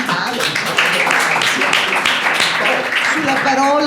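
Audience applause at an academic conference, a steady wash of clapping from a crowd lasting throughout, with voices talking and calling out over it.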